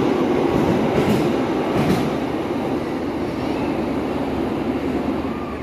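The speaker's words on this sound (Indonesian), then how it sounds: "sudah ada di samping saya rangkaian kereta api Sri Tanjung" Sri Tanjung passenger train, a rake of carriages, rolling past close by with a steady loud rumble and clatter of wheels on rails throughout, no talking.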